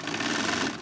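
A walking foot pack sewing machine stitches through a thick 6-point Hudson Bay wool blanket, giving a loud, fast, steady mechanical chatter close up that runs without a break, then stops.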